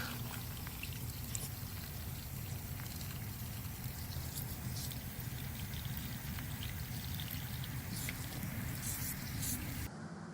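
Water trickles and pours into soil-filled planting bags, a continuous soft wet pouring sound with faint dribbles, steady throughout and fairly quiet, cutting off abruptly at the end.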